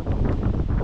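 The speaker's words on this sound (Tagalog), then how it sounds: "Tapos binabagyo kami oh. hangin." Strong, steady storm wind buffeting the microphone outdoors with a low roar and gusty rumble throughout, close and loud, no voices.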